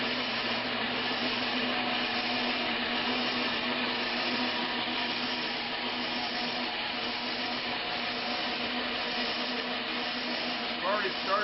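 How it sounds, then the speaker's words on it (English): A bandsaw cuts a banjo neck blank in a woodworking shop, a steady loud whirring drone held without a break for the full stretch, with a voice partly under it. "So I moved to the bandsaw here"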